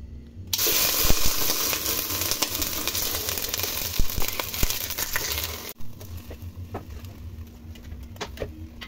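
Cut pork ribs dropped into hot lard in a pot, a loud sizzle bursting in at once and crackling steadily, then dropping to a quieter frying hiss with light pops.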